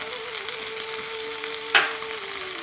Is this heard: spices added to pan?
yes